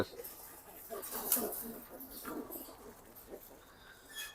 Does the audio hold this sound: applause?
no